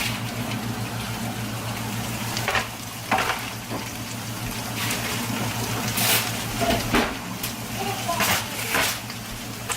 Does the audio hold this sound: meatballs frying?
yes